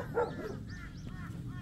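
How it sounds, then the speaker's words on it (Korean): A stray dog in a pine grove, near its puppies, gives a run of high, rising-and-falling yelping barks, about five in quick succession, moderately close over a quiet outdoor background. "네가 좋아서 짖는 건지 뭐 왜 짖는지 모르겠어"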